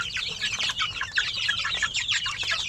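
A pen full of young chicks chirps and peeps in a busy, continuous chorus, with occasional louder cheeps rising above the steady chatter.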